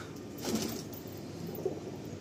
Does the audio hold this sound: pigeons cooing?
yes